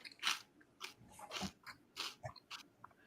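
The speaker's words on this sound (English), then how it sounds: "Who's chewing? That's disgusting." Someone chewing and crunching food close to a microphone during an Eldritch Horror board game session, a run of sharp, irregular bites and crunches with no talk.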